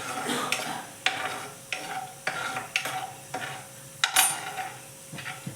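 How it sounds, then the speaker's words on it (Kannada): Ground cashews being roasted and stirred in a pan, the spoon scraping the metal in distinct strokes about once a second over a soft, steady sizzle, close and moderately loud. "ಪುಡಿ ಮಾಡ್ಕೊಂಡಿರೋ ಗೋಡಂಬಿ ಹಾಕೋತಾ ಇದ್ದೀನಿ ಸ್ವಲ್ಪ ಇದು ರೋಸ್ಟ್ ಹಾಕಬೇಕು"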